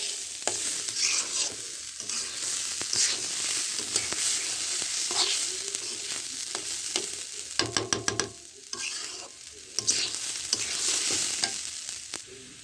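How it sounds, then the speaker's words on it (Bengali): Rice fries in a pan for biryani while a spoon stirs it, soft sizzling under repeated scraping and clattering strokes, with a brief burst of sharp metallic taps midway, close and moderately loud with no talking. "চালটা ভালোভাবে ভেজে নিতে হবে, চালগুলো খুব সুন্দর করে ভেজে নিতে হবে।"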